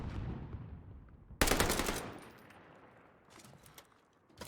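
Rapid automatic gunfire from the video game Call of Duty Warzone bursts out loudly, followed by a few fainter shots as the sound trails off.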